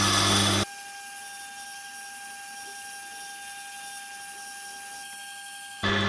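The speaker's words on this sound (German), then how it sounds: "ich schleife jetzt hier also wirklich sehr schön durch" A Tormek wet grinder with a hard Blackstone wheel sharpens a carving chisel, giving a steady low grinding whir with faint scraping, framed by brief louder bursts at the start and end.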